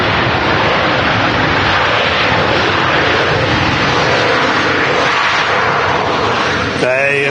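An airliner arriving from Cologne touches down at Manchester Airport, a steady, loud roar of jet engine and rushing air that holds throughout, with a short whine rising near the end.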